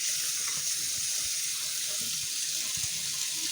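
A kitchen tap runs cold water into a pot of freshly boiled eggs, a steady, loud rushing splash that goes on without a break, with faint knocks from the pot beneath it.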